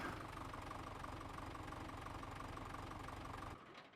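A tractor engine idles steadily in Farming Simulator 17, a low even rumble with a knocking pulse that runs unbroken, then cuts out sharply near the end as the engine shuts off.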